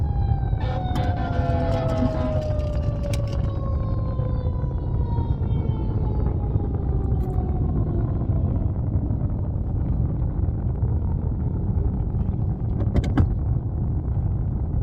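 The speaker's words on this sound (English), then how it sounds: "Hold on, there's a big siren." An emergency vehicle siren wails outside, strongest in the first few seconds, its tones sliding downward as it moves off and fades into a steady low rumble of traffic, with no talking.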